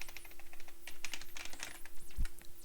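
Rapid typing on a computer keyboard while entering a candidate's name into a Hangul 2016 document for an ITQ test, with irregular, close, crisp key clicks and a slightly heavier keystroke near the end, no talking.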